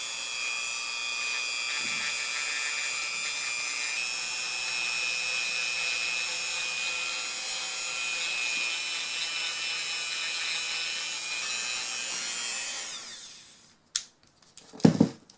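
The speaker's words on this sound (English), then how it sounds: "I very lightly will sand these edges." Sanding the edges of a resin alcohol ink bookmark on a low-speed rotary tool, giving a steady, fairly loud whirring buzz for about thirteen seconds before it stops, followed by a few brief clicks.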